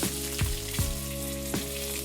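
Mustard seeds, cumin and curry leaves crackling in a couple of spoonfuls of hot oil for a Konkani-style sprouted val bhaji, a steady close sizzle broken by a few sharp pops, no voices.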